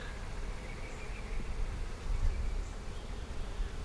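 Honeybees buzz steadily around a queen held in a cage, a low continuous drone with faint wingbeat hum staying close and unbroken throughout.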